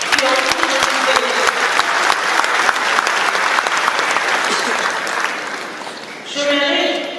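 A crowd at a public gathering in Nkamba, Democratic Republic of the Congo, applauds steadily and loudly for several seconds, swelling again briefly near the end.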